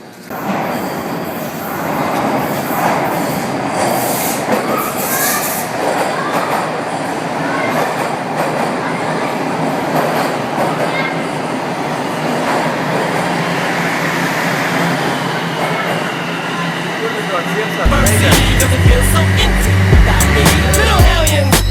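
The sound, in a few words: new Toronto subway metro train running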